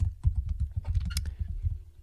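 Fast, uneven key clicks from a computer keyboard tap on continuously, picked up close by a microphone, with soft thumps under each keystroke and no one talking.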